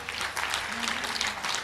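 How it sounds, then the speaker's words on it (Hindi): Applause from a crowd at a Jharkhand World Tribal Day event where Chief Minister Hemant Soren is handing over money to farmers: a short, steady patter of clapping with a faint tone running under it. "तालियां हो।"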